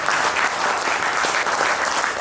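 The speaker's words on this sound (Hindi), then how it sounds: "एक बार तालियां बजाओ" Audience clapping at an offline training meeting, a dense and continuous patter of many hands, loud and steady throughout with no pauses.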